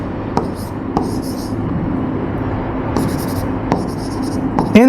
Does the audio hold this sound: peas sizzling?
no